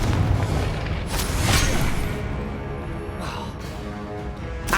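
A Confringo blasting spell in Hogwarts Legacy erupts as a loud, booming explosion near the start, followed by a second burst and rumbling game effects, with no talk over it.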